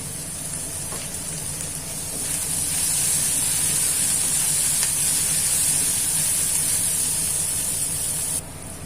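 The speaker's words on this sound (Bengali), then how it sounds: "একটুখানি নরম করে নেবো, কারণ একদম কাঁচা কাঁচা থাকে ক্যাপসিকামগুলো।" Capsicum softening in a hot pan for a breakfast dish gives a steady, dense sizzle and hiss that swells slightly after the opening seconds and then drops a little at the end, with no talking.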